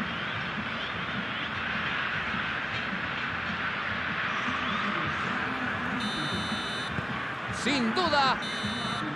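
A referee's whistle sounds the final blasts of a regional Spanish league football match, Catral versus San Miguel: several sharp, shrill tones near the end over a steady outdoor crowd murmur, while a commentator speaks.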